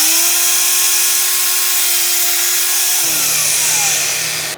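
A power saw runs at a loud, steady whine that drops in pitch as the blade bites into a spalted maple pen blank, then the motor winds down near the end.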